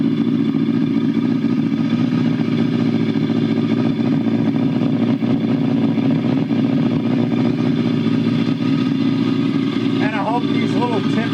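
A Yamaha FZR motorcycle engine drones steadily on a test ride after a chain replacement, loud and close with constant low rumble and buffeting, a voice faintly audible over it near the end.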